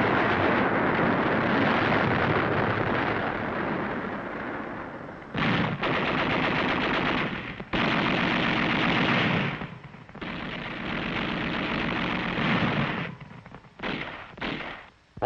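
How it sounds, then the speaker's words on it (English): Sustained, loud battlefield gunfire with heavy machine-gun bursts and artillery fire on Okinawa in 1945, along a highway below an escarpment near Naha; dense continuous firing broken by brief pauses, with no speech. "Troops following the highway were subjected to unrelenting enemy artillery fire."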